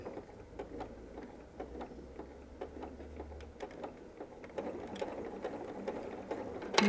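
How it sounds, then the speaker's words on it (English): A sewing machine stitches a Christmas stocking at a slowed pace, its steady rapid ticking running quietly through the stretch and growing a little busier toward the end, with no voices. "I'm going to slow down my machine a little bit. Start and backstitch."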